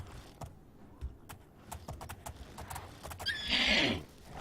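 Horse in the Oblivion video game, with scattered hoof clops leading into a loud, shrill whinny near the end, close and alone without talk.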